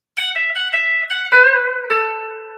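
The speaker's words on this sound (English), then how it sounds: "this lick that you'd close a lot of these kind of phrases with that sounds like this" Country guitar plays a short closing lick of several picked notes stepping downward and ending on sustained lower notes, clean and close with no voice.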